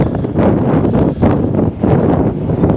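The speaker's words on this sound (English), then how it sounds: "So let's get out of the wind" Strong wind buffeting the microphone at a Corvette track day at Pocono North Course Raceway, a loud, continuous broadband roar with gusty surges throughout and no other clear sounds.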